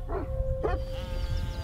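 A livestock guardian sheepdog kept to protect a flock from wolves gives two short, close barks or yips over a low steady background hum, with a brief sharp sound at the end.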